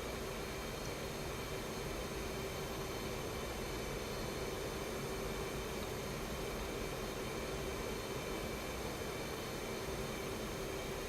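F/A-18C Hornet jet engines in the DCS flight simulator, a steady broadband roar with a constant whine, continuous and even throughout with no voices.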